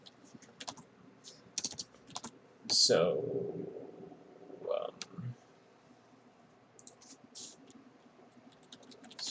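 Typing on a computer keyboard during a game jam coding session, a scatter of soft key clicks sounding close and fairly quiet, with a brief word of speech and a louder burst of other noise in the middle.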